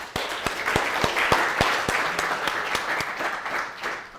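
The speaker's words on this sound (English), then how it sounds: "I wouldn't mind a round of applause to start off for Graham" Audience applause at a lecture celebrating Claude Shannon, a dense wash of clapping with a few sharp, louder claps standing out at a steady pace, sustained for several seconds at moderate level.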